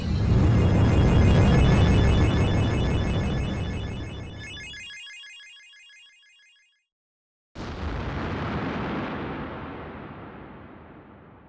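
A loud, sustained rumbling blast from the Halberd battleship's forward cannons fades away into silence, then another heavy roar of cannon fire erupts and slowly trails off.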